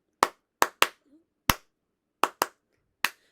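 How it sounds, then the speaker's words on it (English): Seven sharp, separate hand claps at an uneven, random spacing, close and crisp with silence between them and no voices. "It would just be random clapping."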